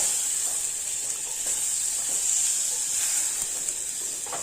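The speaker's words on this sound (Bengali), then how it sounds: "টমেটোটা খুব ভালোভাবে মশলার সঙ্গে একটু হাফ ফ্রাই করে নেব।" Tomatoes half-frying with spices and salt in a pan, giving a steady, close hiss and sizzle that holds evenly throughout with no voices.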